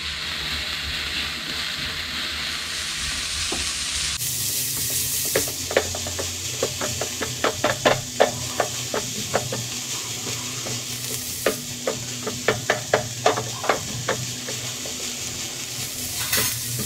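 Vegetables for an Afghani omelette sauté in a sizzling pan while a spoon stirs them in two bursts of quick, rhythmic scraping taps over a constant frying hiss, with no talking.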